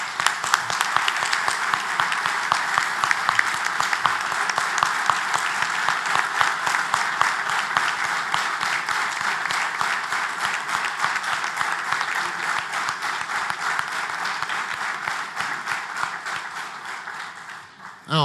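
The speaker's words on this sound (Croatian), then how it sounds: "Molim vas jednim velikim pljeskom, pozdravite mi Dražena Slavicu." A hall full of people at the 20th-anniversary ceremonial session of the Dalmatinski vatrogasac fire brigade claps in long, vigorous applause for a guest, keeping a steady roar for many seconds before fading out.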